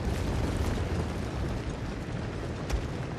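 Artillery explosion in a Total War battle, a sustained heavy rumbling roar of blasts with one sharper burst near the end, loud and without talk.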